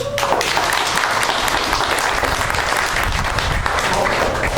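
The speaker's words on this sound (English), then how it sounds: "everybody will clap for you" A family reunion audience applauds steadily, a dense wash of clapping hands filling the room throughout without pause.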